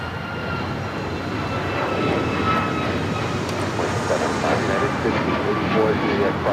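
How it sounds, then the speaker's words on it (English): An Alaska Airlines Boeing 737 MAX 9 jet takes off at LAX with a steady, broad roar that swells slightly over several seconds, while radio voices talk over it. "This is Alaska Airlines 1418 taking off to Guadalajara on the MAX 9"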